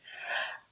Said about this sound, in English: Sorry, just a sneeze.